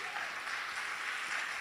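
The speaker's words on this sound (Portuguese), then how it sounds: "Você vai aplaudir ao Senhor porque Deus é maravilhoso?" A church congregation applauds, heard as a soft, steady, fairly distant patter of many hands.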